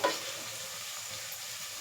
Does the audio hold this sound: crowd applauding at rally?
no